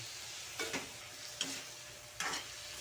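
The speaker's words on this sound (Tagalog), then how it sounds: "haluin muna natin kaunti bago ilagay yung asin" Chicken teriyaki cooking in a pan, stirred with three distinct scraping strokes over a soft, quiet sizzle, close by and without speech.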